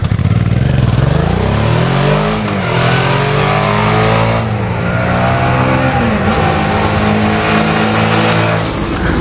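A Suzuki V-Strom 650 with a 650 cc V-twin engine revs up and pulls through the gears, loud and close, its rising and falling engine note continuous with no talk over it.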